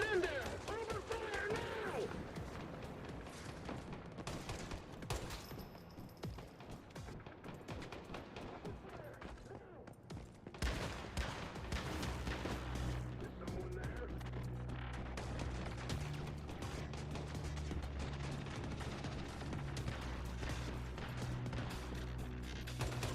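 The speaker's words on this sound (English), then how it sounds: "Open fire now!" Gunfire in the video game Once Human rattles through a dense, busy mix of in-game action, with bursts of shots and crashes continuing throughout while a voice talks over it.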